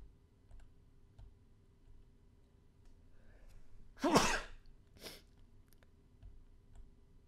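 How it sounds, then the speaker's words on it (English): A single sharp sneeze near the microphone, loud against quiet background clicks of a computer keyboard, followed a second later by a softer short burst. "Excuse me, I need a sneeze."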